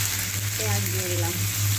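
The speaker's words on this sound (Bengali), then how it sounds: "পেঁয়াজ দিয়ে দিলাম" Onions hit hot oil with cumin and whole garam masala in a wok, giving a loud, steady close sizzle throughout a short moment.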